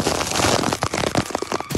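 Heavy rain during a storm in Banaskantha, a dense, noisy hiss of rain with scattered sharper splatters and crackles, loud and close throughout.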